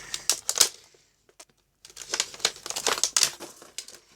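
Crinkly plastic packaging is cut and torn open with scissors while unboxing a table tennis racket, bursts of sharp crackling and rustling broken by a brief pause, heard close up with no talk.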